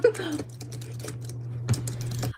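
Computer keyboard typing clatters in quick irregular bursts of key presses, close and crisp, with a steady low hum underneath.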